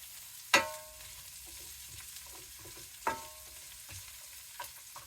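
Asparagus spears sizzle in hot oil in a pan, a soft continuous fry broken by a couple of sharp clinks and scrapes from a utensil moving them around.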